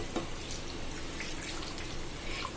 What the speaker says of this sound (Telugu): ఇప్పుడు మనం తీసి పెట్టుకున్న చింతపండు నీళ్ళు వేసేసుకొని